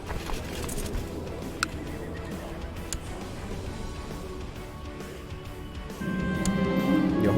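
A horse in the video game Crusader Kings 2 neighs and whinnies over clip-clopping hooves, with the sound growing fuller and louder in the last second.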